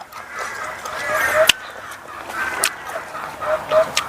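Ducklings and other fowl call close by, nasal honking quacks repeated in uneven bursts with a few sharp clicks between them.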